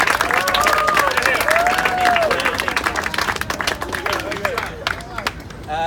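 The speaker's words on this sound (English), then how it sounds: "So let's give a big round of applause for..." An outdoor crowd at a street sign dedication claps and cheers, dense applause close by with scattered voices and chatter mixed in, thinning toward the end.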